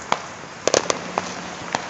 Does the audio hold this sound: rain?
no